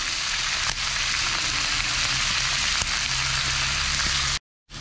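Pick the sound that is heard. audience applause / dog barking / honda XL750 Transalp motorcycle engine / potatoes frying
potatoes frying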